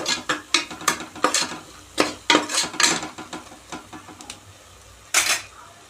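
Sambar powder is stirred into hot oil in a pan for a Kongu-style rice and dal biryani, with repeated close scraping strokes of a spoon against metal at an irregular rhythm and a faint sizzle.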